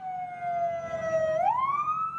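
Police car siren on a Toronto street, a clear wailing tone holding steady before sweeping upward, prominent over low traffic rumble, with no voices.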